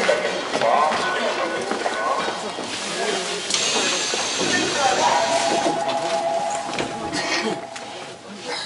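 A crowded subway train at Songnae Station in South Korea hisses and rumbles along the rails, with a rising electric whine and scattered clatter, fairly loud and continuous while people talk in the background.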